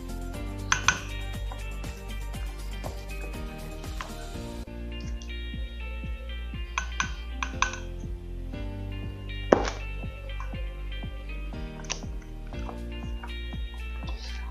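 Lasagna filling with egg being mixed in a bowl, producing scattered light clinks and scrapes of a utensil against the dish over a steady low hum, fairly quiet and close, with no talking.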